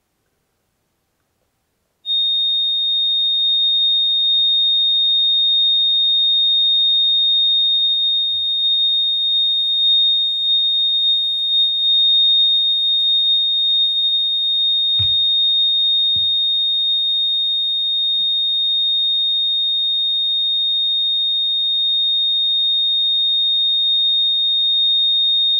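A steady, piercing pure tone at 3,693 Hz plays for a cymatics test, starting abruptly and holding loud and unbroken, with a few faint low knocks beneath it.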